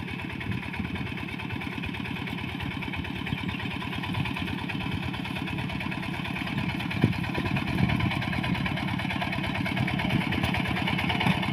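A small old rice-field plough tractor engine idles steadily with a rapid, chugging low rumble, close by and continuous, with a brief knock partway through.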